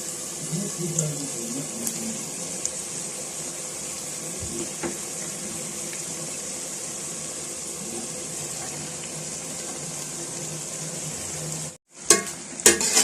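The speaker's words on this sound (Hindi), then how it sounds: "अब इसमें बॉयल किए हुए नूडल्स डालूंगी।" Boiled noodles tipped into a pan of fried chicken and sautéed vegetables, giving a steady broad sizzle with scattered clinks and stirring knocks throughout, a brief drop near the end followed by a couple of louder scrapes.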